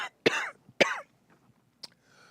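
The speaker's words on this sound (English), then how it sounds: "the jokes aren't funny while I'm coughing" A man coughs twice in heavy, rasping bursts close up, followed by a short throat-clearing sound and a faint rustle.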